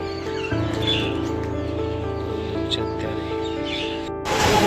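Myna birds perched up in a tree give scattered chirps and calls over a steady droning hum near a welding workshop. A louder burst of noise comes at the very end.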